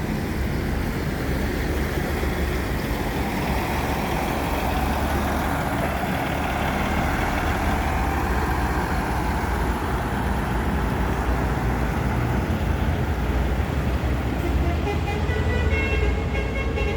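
A Volvo-engined bus idles and moves through the Alang-Alang Lebar bus terminal in Palembang in the morning, a loud continuous engine rumble mixed with traffic noise and a horn toot.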